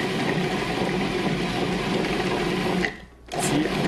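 A Cuisinart bread machine kneads walnut rosemary dough with a steady, loud mechanical whir that runs nearly throughout, cutting out briefly for a moment before resuming.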